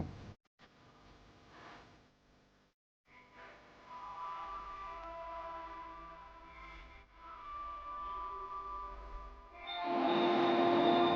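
A train running on a rail line that cuts through a hill town near Kamakhya, a steady rumble across the clip building to a louder, brighter passage near the end, with no talk.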